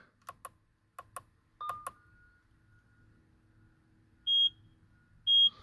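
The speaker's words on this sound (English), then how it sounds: "I'm going to wait for all the chimes and the beeps to go away" A series of quiet electronic chimes in quick pairs, then two longer steady beeps spaced apart, from an IGLA anti-theft immobilizer in a Lamborghini Huracan, in an otherwise quiet setting.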